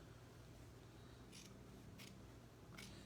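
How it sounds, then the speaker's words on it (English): Scissors snip into the sleeve of a small fabric doll dress shirt, three faint, crisp cuts spaced about a second apart against a quiet background. "we're going to put our scissors in there"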